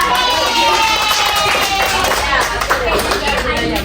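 Schoolchildren in a classroom clap their hands together in a busy, continuous patter, with voices chattering and talking underneath.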